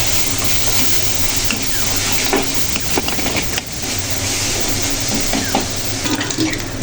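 Spice paste of salt, chili powder, turmeric and coriander powder steadily sizzles and fries in oil in a pan for a restaurant-style fish curry, with continuous close stirring and scraping throughout.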